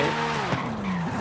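Toyota Supra drifting in Forza Horizon 5 on a wheel setup, a brief close tire squeal with a wavering pitch over a steady engine note.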